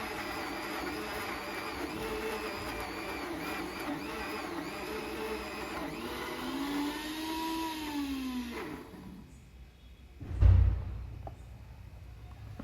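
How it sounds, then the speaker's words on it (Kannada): A kitchen mixer grinder runs a jar of peeled bananas with a steady whirring motor drone that shifts pitch slightly, then cuts out and is followed by a single heavy thump near the end. "ನೋಡಿ, ಗ್ರೈಂಡ್ ಮಾಡ್ತಾ ಇದ್ದೀನಿ"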